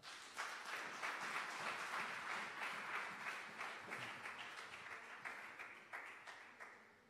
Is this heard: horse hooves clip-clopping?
no